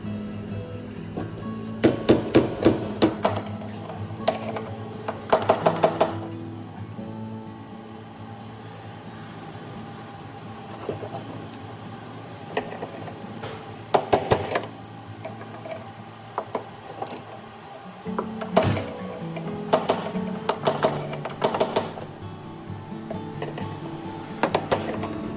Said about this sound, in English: You start kicking them kind of in a circle